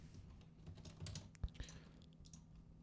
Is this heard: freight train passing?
no